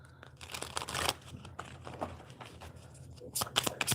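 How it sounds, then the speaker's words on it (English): Tarot cards shuffled by hand, a close papery riffling and crinkling in uneven bursts, with a quicker flurry near the end and no talking. "Let me shuffle these cards."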